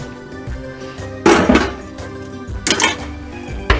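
A lid goes onto a pot of simmering seafood in red sauce, with two loud metallic clanks and rattles up close over faint kitchen background.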